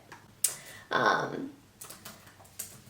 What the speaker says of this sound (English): I'm just gonna type it out